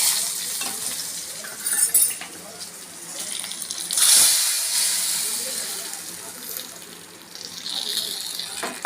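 Finely grated garlic and red chilies sizzling in hot oil for a dal tadka, frying hiss rising and falling as a spoon stirs, with a louder burst midway and a quieter sizzle settling afterward.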